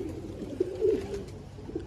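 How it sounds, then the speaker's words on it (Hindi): Newly released pigeons give a few faint, short, low coos, spaced irregularly against a quiet outdoor background. "ये रहा कबूतर, खोल दिए।"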